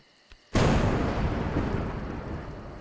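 A sudden, heavy thunderclap bursts out and rolls on as a long, loud rumble during a storm in the video game A Juggler's Tale. No voices are heard.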